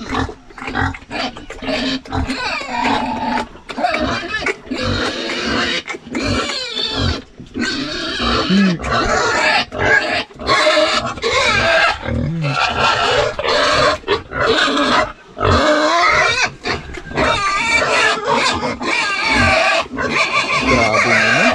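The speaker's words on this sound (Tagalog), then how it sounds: "Dito naman tayo sa alaga ng baboy." Pigs on a farm grunt and squeal loudly and repeatedly at close range, busy overlapping calls filling the whole stretch with only brief pauses.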